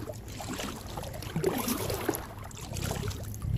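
A kayak paddles across a weedy lake: soft, steady water washing and dipping strokes close by under a broad airy hiss, with no voices.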